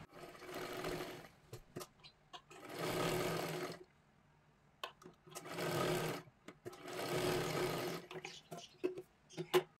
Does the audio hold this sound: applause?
no